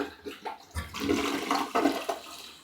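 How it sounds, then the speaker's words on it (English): A newly installed toilet flushes once with a close, rushing gurgle of water that swells and then drains away, with no talking. "One last flush here."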